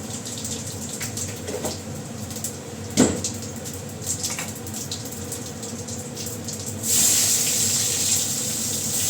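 A kitchen tap runs steadily into a sink while a wok is scrubbed, with a single clunk of metal partway through and the water gushing harder near the end.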